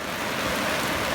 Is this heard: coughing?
no